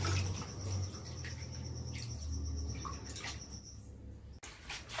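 Vegetables are rinsed in a vessel of water, making continuous close splashing and sloshing, with a sharp knock near the end and no talking.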